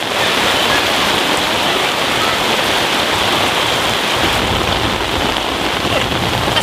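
Steady, loud rain pours down in a dense, unbroken hiss close by, with no voices over it.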